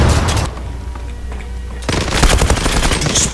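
Rapid automatic gunfire bursts out in the online shooter Zula, a dense rattling volley, then a brief lull, then another loud sustained burst of shots.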